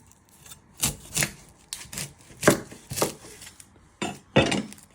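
An onion being chopped with a knife on a cutting board in a home kitchen, a series of close, crisp cutting thuds coming in irregular bursts with short pauses between them.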